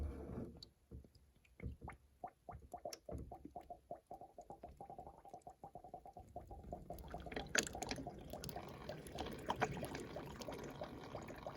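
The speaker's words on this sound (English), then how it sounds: "So we'll pour some more water, zooming in on this angle, and see what happens." Water is poured onto a Volvo V50 to trace a leak, beginning as scattered close drips and trickles, then building into a steadier splashing pour and run-off in the second half.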